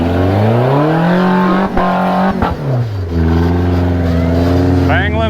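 A Toyota truck engine at an off-road event in Sand Hollow revs hard with rising and falling pitch, bouncing off the rev limiter in rapid stutters, loud and close, with voices mixed in.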